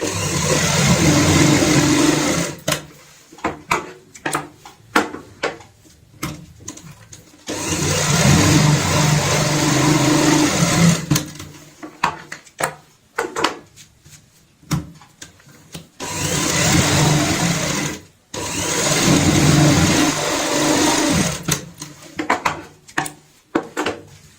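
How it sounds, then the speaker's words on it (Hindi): A sewing machine stitching fabric for a handmade hand purse: loud whirring motor runs of a few seconds each, broken by short quiet pauses and small clicks between the stitching passes. "अब हम यहाँ पे हर निशान के ऊपर सिलाई लगाएंगे"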